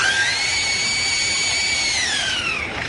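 A lyrebird mimics a power drill with a steady, sustained whine whose pitch holds high and then slides downward near the end, loud and close with no talk over it.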